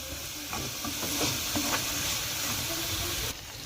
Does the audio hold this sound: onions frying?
yes